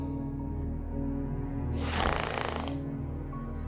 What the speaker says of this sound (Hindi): ये तो खर्राटे लेता है।